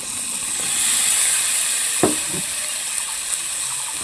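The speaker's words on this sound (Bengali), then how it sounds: "কেটে রাখা আলুগুলোকে এখন আমি দিয়ে দেবো" Potatoes fry in spice paste and oil in a pan, a steady close hiss and sizzle with a single thud as they go in and a brief stir after.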